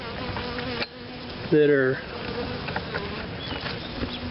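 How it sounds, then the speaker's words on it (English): Honey bees in a swarm hive being re-queened give off a steady, close, dense buzz throughout, with a brief human voice partway through. "Okay, I've got bees"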